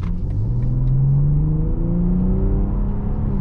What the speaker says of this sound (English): the engine feels very torquey down low